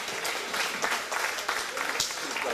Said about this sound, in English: Give him a round of applause for my man Black Dot.